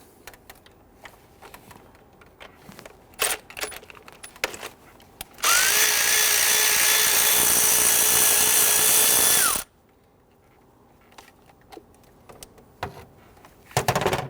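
A power tool spins out a 10mm bolt on the 3.5L V6 engine of a 2011-2017 Nissan Quest, one loud, steady whirring burst lasting about four seconds amid scattered clicks and clinks of tools and parts.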